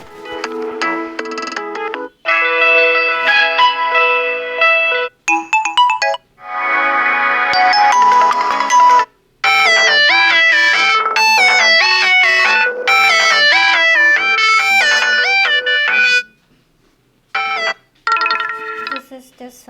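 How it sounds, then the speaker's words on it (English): An Ai+ Pulse budget phone plays a melodic electronic ringtone through its single small speaker, a bright chiming tune in repeated phrases with short gaps, close and fairly loud. "So here's the ringtone, and I can play the ringtone."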